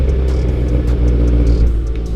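Mitsubishi Evo X with a newly fitted aftermarket exhaust idles and revs with a deep, steady, throbbing low-pitched drone, close and loud, with slight swells in the engine note and no talking.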